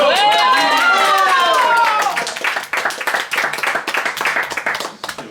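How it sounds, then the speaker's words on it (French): A few people clap their hands at a family Christmas and birthday gathering, sharp distinct claps taking over partway through as excited voices talk loudly beforehand and around them. "Oui, on a applaudi."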